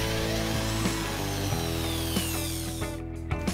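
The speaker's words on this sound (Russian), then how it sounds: "Для начала попробуем с предварительным рассверливанием 2-мм сверлом." A Sturm ID21580K compact power drill with a 2 mm bit whines steadily at high speed, its tone shifting slightly as the bit bites into a steel angle, with a few small clicks near the end.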